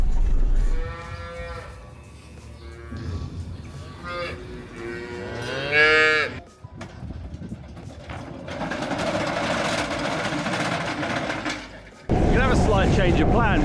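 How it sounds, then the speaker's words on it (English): Large cattle on a farm moo several times in long, drawn-out calls, some close and loud, with rain and a vehicle engine rumbling in between and a brief spoken remark. "Big cows."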